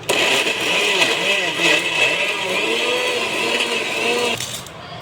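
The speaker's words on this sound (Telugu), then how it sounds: "బాగా దాన్ని ఒక చుట్టూ మిక్సీకి వేసుకోవాలి" A kitchen mixer grinder whirs loudly and steadily, grinding fried chana dal with jaggery, for several seconds before switching off and falling quiet.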